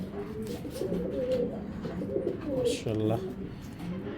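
Pigeons of the Giribaz breed coo in low rolling phrases, close by, beneath someone talking.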